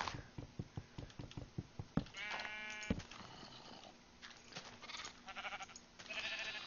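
Sheep bleat repeatedly in the Minecraft video game, several short nasal calls following a run of rhythmic tapping and clicking, all fairly close and clear with no talk over them.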